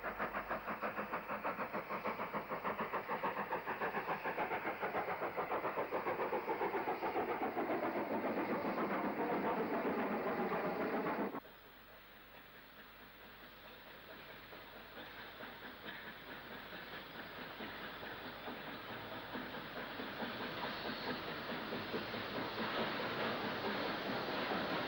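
A Southern steam tour train running along the main line, a loud sustained rumble with a rising tone that cuts off abruptly, followed by a quieter, gradually swelling rolling clatter.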